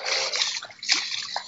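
Rainwater in a field of fodder millet splashes and sloshes in a broad, continuous wash, with a few sharper splatters standing out close by and no clear talk.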